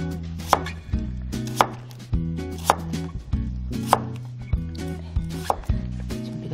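A knife slices radish into thin pieces, about 2–3 mm thick, on a cutting board while preparing Korean beef radish soup and nabak kimchi. Crisp, close chops land at a steady rhythm, roughly one a second, with lighter cuts in between.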